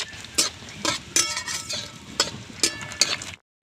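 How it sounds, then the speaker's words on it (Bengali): Lentil dumplings (dal bori) frying in oil in a pan with cumin, dried chilli and bay leaf, heard as a steady close sizzle broken by a series of sharp spatula scrapes and clinks at irregular intervals. "ডালের বড়ি ভেজে নিচ্ছি"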